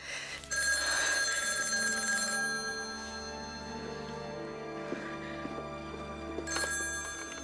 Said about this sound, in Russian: Звонят Ане